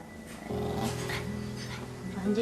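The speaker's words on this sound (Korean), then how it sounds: "손을 내려 하자 으르렁거립니다" A protective pet dog growls low and steadily near its owner, who has ALS, as someone reaches toward him; the rumbling growl starts abruptly and holds close and clear, rising into tense whining tones near the end.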